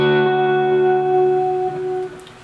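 A sustained electric guitar chord, a post-rock ambient tone, rings out with a wide reverberant wash, slowly decaying and shifting over a couple of seconds.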